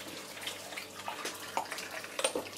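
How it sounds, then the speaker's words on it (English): Stock poured into a cooking pot in a home kitchen, a soft, faint trickle and splash of liquid with small clinks, close by and without talk. "Okay, so this is, I'm just adding my stock."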